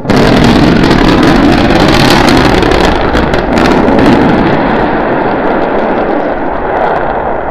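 SpaceX rocket engines roaring during a landing burn, a loud, sustained broadband rumble with wind buffeting that fills the whole stretch before easing slightly toward the end.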